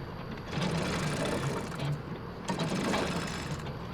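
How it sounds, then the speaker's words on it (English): A metal shutter in Resident Evil 2 Remake rolls open with a continuous mechanical rattling and clattering, steady and fairly dense throughout. "Or open the shutter."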